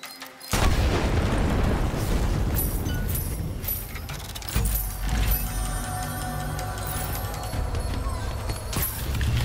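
Dynamite blowing up in the Strange Brigade Hidden Valley mission: a loud, sudden blast that opens into a long rumbling, crackling roar, with a second heavy burst partway through and debris clatter trailing behind.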